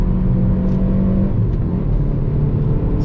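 Engine of a 2021 Hyundai Veloster N pulling hard up a long uphill sweeper, a steady, loud droning roar with a constant low rumble throughout and no voices.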